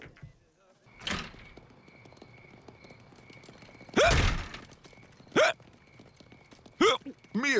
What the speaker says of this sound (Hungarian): Miért csuklasz így, öregem?